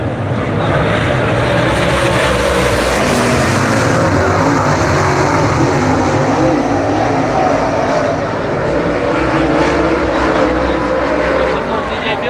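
Traditional sprint cars racing on the oval at Buxton Speedway, a dense, steady engine roar that holds loud and unbroken throughout, with the crowd and track ambience blended underneath.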